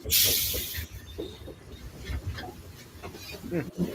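A steam engine safety valve lets off a sharp, loud burst of hissing steam at the start, then dies away under low background rumble and scattered sounds.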